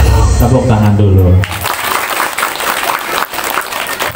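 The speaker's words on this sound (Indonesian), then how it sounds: "Tepuk tangan dulu." At a parenting class for kindergarten parents, a voice speaks for the first second and a half, then an audience breaks into sustained applause that carries on to the end at moderate loudness.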